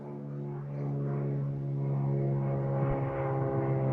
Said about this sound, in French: L'avion, Monsieur Rourke.